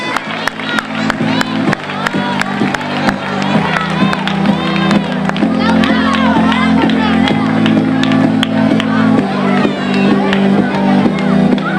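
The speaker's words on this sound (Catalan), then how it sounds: "Un aplaudiment a aquesta Ventafocs i els seus prínceps" A large crowd at a carnival ball cheers and applauds a Cinderella-themed troupe, with loud continuous clapping, whoops and crowd noise over a steady musical drone.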